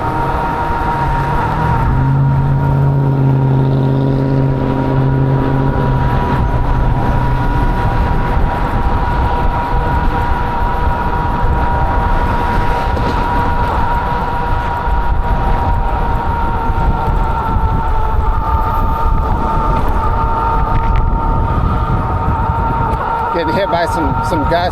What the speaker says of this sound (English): Getting hit by some gusts of wind